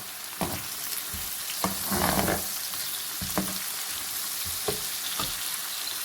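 Chicken manchurian frying on high flame, a steady loud sizzle with periodic scraping stirs of the spatula in the pan, close and without talk.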